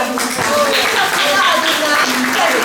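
An audience at a meeting with an author claps together, the applause steady and fairly loud while voices carry over it.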